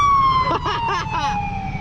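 Fire engine siren in a video game, a steady wailing tone with a gradually falling pitch, loud and close throughout, with a low engine rumble underneath.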